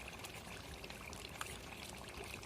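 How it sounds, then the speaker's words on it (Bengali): A small amount of ghee is poured into a pan of Bengali-style chicken curry near the end of cooking, giving a soft, steady trickle over a low sizzle. "তারপরে একটু সামান্য নামানোর আগে অল্প একটু ঘি দেওয়া হলো।"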